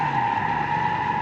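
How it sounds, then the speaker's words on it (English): A 1940s car engine in the BeamNG driving game held high in its rev range, a steady, loud, buzzing drone with no break. "this engine is designed for high revs, so I'm trying to keep it in that high rev zone"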